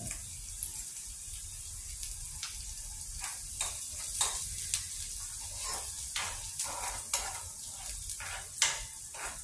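Onions with salt frying in a pan while being stirred, a soft steady sizzle broken by repeated scraping clicks of a spoon against the pan, close and alone with no talking.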